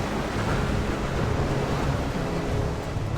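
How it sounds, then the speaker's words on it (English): Storm waves surge against an Australian coastline in a steady, loud roar of surf and wind-buffeted noise, continuous and close without any voices. "and surging storm waves batter the coastline."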